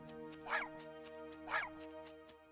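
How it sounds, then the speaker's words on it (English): A panda character in a Ludum Dare 49 game gives two short puppy-like yips about a second apart, each a quick higher-pitched bark over a steady tonal game soundtrack. "Oh, they make puppy noises."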